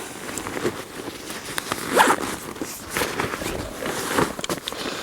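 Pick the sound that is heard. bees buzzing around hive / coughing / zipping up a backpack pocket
zipping up a backpack pocket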